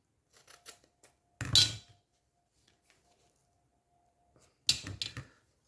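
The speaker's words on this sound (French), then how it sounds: "On va couper un petit bout." Scissors cut a small piece for a homemade party decoration. There are two short, crisp bursts of snipping, separated by a quiet pause with faint handling noises, close to the microphone.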